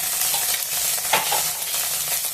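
Fried onions with ginger garlic paste are stirred in a pan, a continuous close sizzle and frying hiss with a few soft scrapes of the spoon, and no speech.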